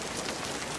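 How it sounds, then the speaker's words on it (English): Steady rain pours during a dramatic film scene, a dense continuous hiss of drops hitting surfaces that fills the moment without any voices. "Dramatic scene in the rain."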